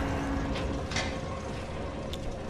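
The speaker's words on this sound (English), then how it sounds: "But the sound is coming from the machine, too, from inside the walls." Machinery grinding and clanking inside the walls in the Outlast video game, a low continuous mechanical rumble with a few faint creaks and ratcheting knocks.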